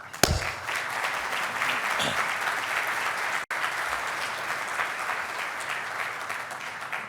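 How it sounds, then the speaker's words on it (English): An audience at an annual meeting gives sustained, hearty applause, a full even roar of clapping with a brief dropout midway. "to take our hearty, rousing applause"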